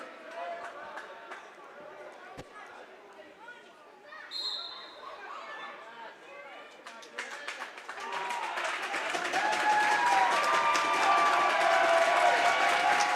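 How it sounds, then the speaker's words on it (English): A crowd at a varsity boys wrestling dual meet swells from murmuring chatter into loud sustained cheering and clapping, with squeaks and thumps from the mat early on and an announcer talking over the noise. "The crowd on their feet"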